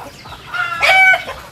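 A chicken on a farm gives a single loud, drawn-out cluck close by, rising and falling over about a second with no talking.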